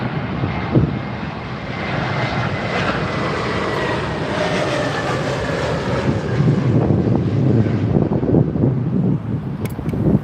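A Lufthansa airliner lands on Heathrow's runway 27R, its jet engines a loud, sustained roar that builds and holds for several seconds, buffeted by wind on the microphone.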